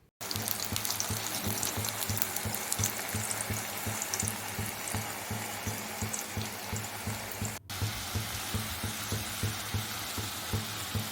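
Raw banana slices fry in hot oil in a home kitchen wok, giving a loud, continuous sizzle with bubbling crackle and brief clinks of stirring, cut off sharply twice.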